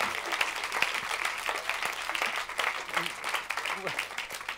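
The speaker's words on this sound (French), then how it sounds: "on peut les applaudir pour leur franchise" An audience at the Banane Comedy Club in France claps in steady, dense applause that runs throughout, with voices mixed in underneath.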